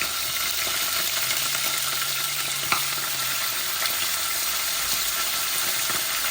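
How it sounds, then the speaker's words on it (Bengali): Taro stolons fry in a pan as onion goes in, giving a steady close sizzle with faint stirring scrapes and an occasional sharp clink. "আমি অনিয়নটা দিয়ে দিচ্ছি লতির মধ্যে।"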